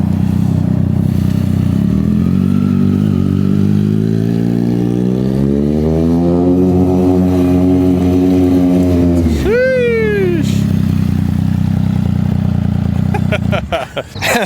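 A BMW M1000R motorcycle with a titanium Akrapovic exhaust revs up under hard acceleration, its loud rising engine howl climbing for several seconds before a sharp drop and quick shift, heard close up with some wind buffeting.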